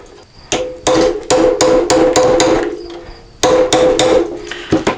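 Hammer blows knock old rear shock bushings out of an ATV, a run of loud, sharp metallic strikes in two bursts, roughly a dozen hits in all, each ringing briefly, close to the listener with no talking.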